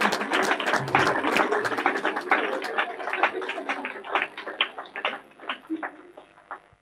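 A church congregation claps steadily in a brisk, close burst of applause that gradually thins and fades over several seconds.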